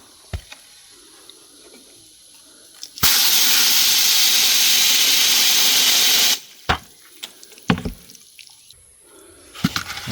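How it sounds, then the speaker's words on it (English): Water pours loudly and steadily for about three seconds onto dry bedding in a homestead worm bin. Scattered clicks and handling knocks come before and after the pour. "Look how fast it's soaking up that water."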